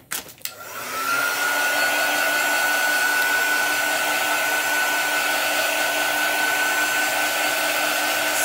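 Hair dryer blowing on chalk paste: a click, then a loud, steady whirring hum with a constant whine that holds unbroken to the end.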